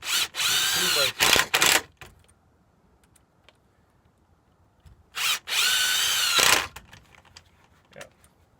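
A power drill drives screws into attic truss wood while sistering web members, two loud whirring bursts of about two seconds each separated by quiet, close by, with brief speech between them.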